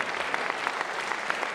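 An audience applauds at a theatre after a stage play. Dense, even clapping from many hands fills the short stretch, heard at a moderate distance and fairly quiet, with no talking.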